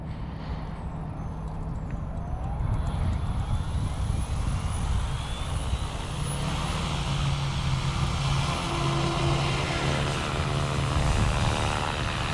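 A steady, loud mechanical whine and rotor drone builds and holds throughout as an RC helicopter spools up, its pitch rising as the spinning blades come up to speed, fairly close.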